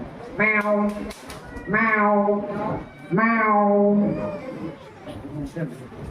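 At a school inter-house cultural competition, a human voice imitates a cat with three long, drawn-out meows, evenly spaced and close, each rising then falling, followed by softer trailing vocal sounds.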